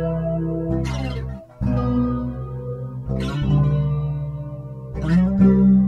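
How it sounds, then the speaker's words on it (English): Experimental electric guitar run through a bit-crusher into a small room reverb, playing sustained, gritty distorted chords in bursts with brief gaps, loud and close, with no voices. "I thought to put a bit crush on a little room reverb"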